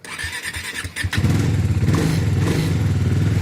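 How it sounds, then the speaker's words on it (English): A motorbike starting on a cold, frosty morning in Nepal's high mountains, with a few starter clanks and squeals before the engine catches and settles into a loud, steady throbbing run. "I want to see if my bike will start in one go."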